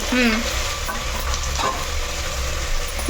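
Cashews fry with vegetables in a hot pan, a loud close sizzle with soft stirring scrapes, and a faint voice briefly in the background.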